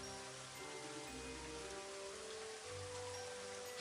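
Steady rain pours in the Elder Scrolls 2 video game, a dense, continuous hiss of drops on surfaces with a low rumbling bed beneath, unbroken from start to finish.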